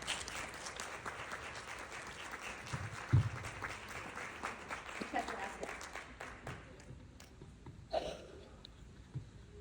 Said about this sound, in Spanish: Recibamos con un fuerte aplauso al doctor Carlos